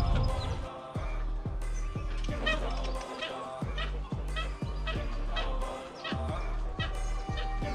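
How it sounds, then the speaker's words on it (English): Magpie geese honk repeatedly in a loose, overlapping chorus, fairly close and loud, beside a river in New South Wales, with a steady rhythmic thumping and a voice running underneath throughout. "get up close and personal to some magpie geese"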